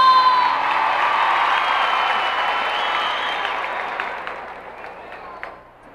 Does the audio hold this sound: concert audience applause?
yes